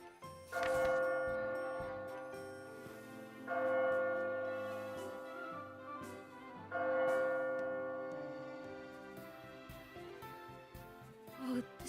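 A bell in the video game Labyrinth of Refrain rings three times at an even pace, each loud resonant strike decaying slowly before the next, with faint soft ticking underneath and no voices.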